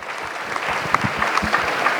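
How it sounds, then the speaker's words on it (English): Audience clapping at a symposium on AI and entrepreneurship, moderate and steady for two seconds, with scattered sharper claps standing out from the crowd. "Can we have a big round of applause?"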